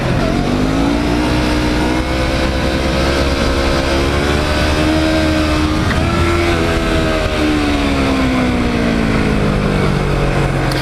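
Motorcycle engine revving hard and close in a parking lot during solo stunt practice, a loud continuous roar whose pitch climbs and sags with the throttle and never drops to idle.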